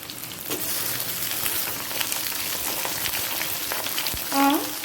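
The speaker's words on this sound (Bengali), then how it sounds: "পটল কুমড়ো আর কচুটাকে এক মিনিট ভেজে নেব" Potato, pointed gourd, pumpkin and taro fry in a pan for a labra vegetable dish, giving a steady close sizzle with scattered crackles and a brief tonal clink near the end, with no talk.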